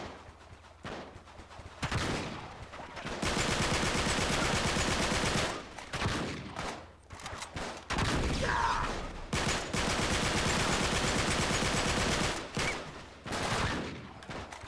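Sustained automatic gunfire fills a combat scene in the video game Uncharted 3: Drake's Deception, loud and continuous bursts with a few short gaps, close and overlapping like several weapons firing at once.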